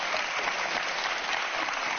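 Dense audience applause, steady and loud throughout, many hands clapping together with no pauses.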